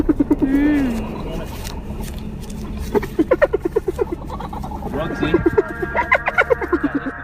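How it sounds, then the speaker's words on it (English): Hyena calling: a short rising and falling harmonic whoop, then rapid runs of pulsed, giggling cackles in two loud, close bursts with no other voices. "Hyena"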